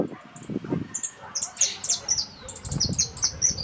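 An adult male small yellow-golden bird of central Argentina sings bright, high chirping notes in repeated short bursts against a low rumbling background.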